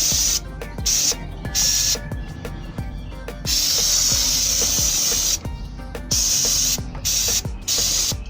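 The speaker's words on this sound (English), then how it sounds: "I think I put enough carburetor cleaner on there" Carburetor cleaner hissing from a spray can in a series of bursts, each roughly half a second to a second long with short pauses between, loud and close, with clicks and clatter of handling underneath and no talking.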